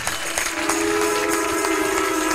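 A church congregation claps during a worship service, producing a dense wash of applause over a sustained tone from music or a held voice, fairly loud and steady throughout.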